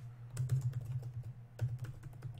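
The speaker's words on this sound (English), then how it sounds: "If I can type it correctly." Quiet, close typing on a computer keyboard in irregular bursts of key taps, with a steady low hum underneath.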